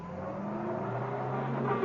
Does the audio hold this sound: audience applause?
no